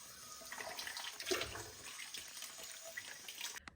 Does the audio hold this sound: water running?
yes